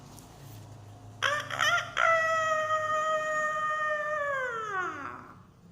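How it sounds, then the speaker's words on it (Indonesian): A rooster crows once, loud and close, a long drawn-out cock-a-doodle-doo that falls away at the end, preceded by a couple of short clucks. "suara ayam berkokok"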